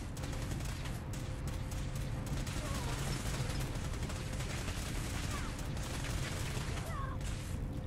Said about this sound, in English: You stop shooting at me